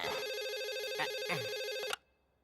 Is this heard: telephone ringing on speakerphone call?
yes